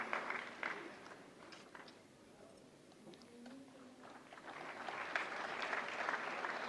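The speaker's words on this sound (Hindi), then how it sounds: "जोरदार तालियों से स्वागत करें" Audience at the 69th National Film Awards ceremony applauds in a sustained, moderately distant wash of clapping that swells toward the end, with some voices beneath it.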